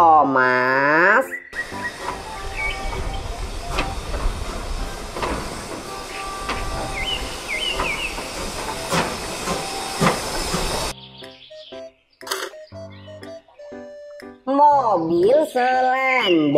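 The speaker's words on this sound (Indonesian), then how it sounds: "Kereta Thomas" A Thomas toy train gives off a long, steady steam hiss for several seconds, close and fairly loud, with a voice speaking briefly before it and a few seconds of lively, sung-sounding speech after it.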